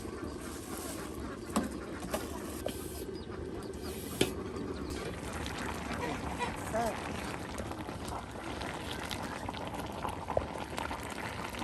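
A pot of bottle gourd curry with rohu fish head boils steadily with a continuous bubbling, while a voice talks over it.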